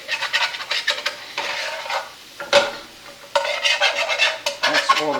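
A utensil is scraped across a pan while deglazing it for Sunday gravy, giving repeated close, gritty strokes in bursts with short pauses over a low sizzle.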